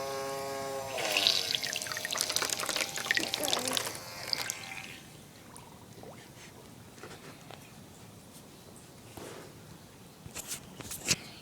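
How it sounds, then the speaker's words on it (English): Water streams from a tap into a toy pirate ship, a loud rushing splash for the first few seconds that then drops to a quieter trickle and light knocks. "Oh, and that's the water stream."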